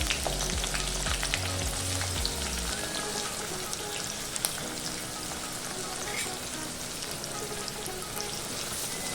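Dried red chilli pieces, crushed garlic cloves, tempering spices and onion slices crackle in hot oil, a dense continuous close sizzle with scattered pops, and no voices.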